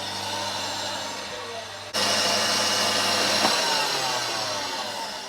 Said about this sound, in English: Now I'm going to start whisking this on medium speed until it forms soft peaks.